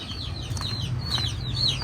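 A chicken clucks in short repeated notes over a low steady background rumble.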